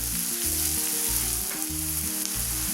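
Onions soften in a pan for an egg curry with coconut milk, giving a dense, continuous sizzling hiss. A low rhythmic hum pulses steadily underneath it.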